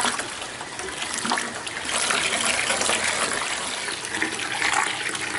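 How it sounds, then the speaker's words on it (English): Water gushes and splashes as it is poured to make about five gallons of compost tea on an organic farm in the Philippines, a loud, continuous near pour heard alone without talking. "we now add water till we have about 5 gallons of compost tea"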